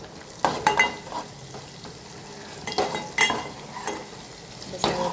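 Curry leaves crackle and sizzle as they drop into hot tempering oil for dal, with several sharp spitting bursts and a steady low frying hiss between them, close up with no talking.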